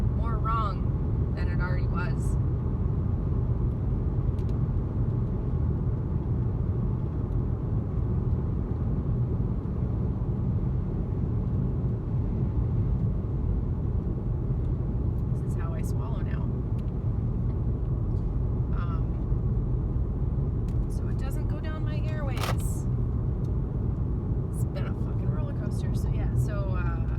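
A car drives fast on the road, with a constant low engine and road rumble filling the cabin while someone talks over it throughout.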